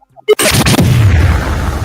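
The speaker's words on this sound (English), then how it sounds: "Wow, a lot of explosions today." Loud explosion sound effects burst close by, a sharp blast followed by a rumbling, crackling roll that sustains without fading.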